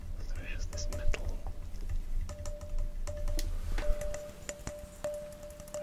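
Light tapping on the metal body of a portable insulated coffee cup, a string of quick, close, quiet taps and clicks in irregular rhythm, with a faint whisper-like murmur underneath.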